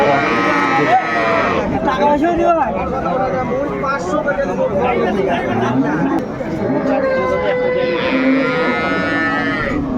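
Sahiwal, Sindhi and local dairy cows and calves at a busy rural cattle market, with loud nearby moos at the start and end over constant crowd chatter and bargaining voices.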